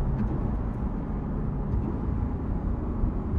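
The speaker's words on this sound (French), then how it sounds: "vous allez pouvoir entendre ce que donne cet échappement sport valve ouverte" A Porsche 718 GTS 4.0 with its sport exhaust valves open makes a steady, loud, low engine drone heard from inside the car during a rev-matched downshift toward a roundabout, with no talking over it.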